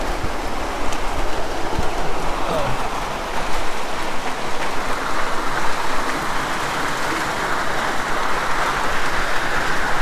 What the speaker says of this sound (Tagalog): Ngayon medyo mahina na, pero malakas pa rin yung ulan.